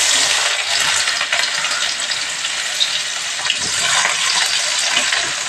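Onions with black cumin seeds lightly fry in a pan, giving a steady, close hiss of sizzling oil that stays even throughout, with no voices.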